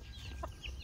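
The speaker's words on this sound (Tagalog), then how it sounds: "ito na nga pala yung mga manok natin" Chickens clucking faintly in a yard, a couple of brief soft clucks over a low steady background hum.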